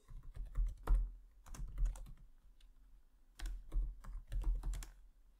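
Quick typing on a keyboard while entering a passphrase to set up disk encryption on a Raspberry Pi: two dense bursts of clattering keystrokes close by, separated by a short pause, with no talking.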